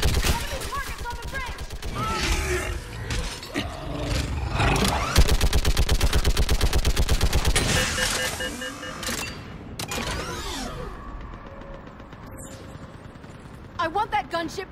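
Mounted gun firing in Mass Effect 3, a heavy, steady stream of rapid shots dominating the middle of a chaotic battle, with shouting voices and clattering debris before it fades to quieter clicks.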